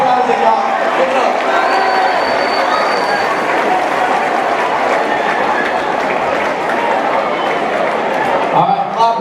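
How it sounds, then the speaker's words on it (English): A rally crowd in a large hall claps and cheers for Isaac, a dense continuous roar of applause and voices, loud and close, with speech mixed in throughout. "Give it up for Isaac, y'all."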